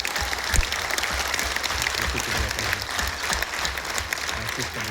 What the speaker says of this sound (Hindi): तो सबसे पहले तो अपने तालियां बजाइए,